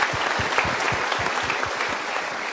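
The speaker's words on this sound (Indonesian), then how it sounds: "Kita berikan tepuk tangan dulu." Audience applause at a live motivational talk show, dense steady clapping from a crowd filling the whole stretch at an even level.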